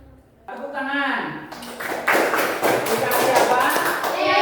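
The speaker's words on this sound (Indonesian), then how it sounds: "Tepuk tangan." A classroom group claps, starting after a brief spoken prompt and swelling into dense, continuous applause for several seconds, close and fairly loud.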